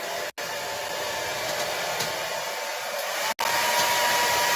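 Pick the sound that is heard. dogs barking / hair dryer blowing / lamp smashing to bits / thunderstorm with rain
hair dryer blowing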